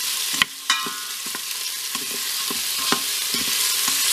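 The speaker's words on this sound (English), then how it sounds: "So we're going to let that cook until the onion begins to soften" Chopped onions with salt frying in a Cosori pressure cooker for beef stroganoff, a steady close sizzle broken by several sharp spoon clinks and scraping stirs against the pot.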